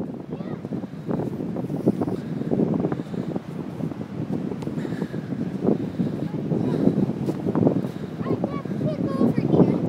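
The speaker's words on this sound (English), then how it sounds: "Windy down here, huh?" Gusty wind buffets the microphone on a beach, a steady rough roar throughout with a child and an adult talking over it.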